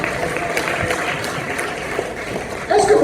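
A church congregation applauds together in a sustained, dense clatter of hands that carries evenly throughout, with a rise right at the end.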